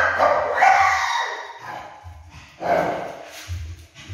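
A wet dachshund barks during a bath, giving several loud, close barks and yips in two bursts separated by a short pause, with no talk over them.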